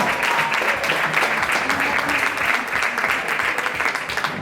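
Loud, sustained applause from a crowd greets a player introduction at a women's all-star table football event in Lugo, dense steady clapping filling the whole stretch without a break.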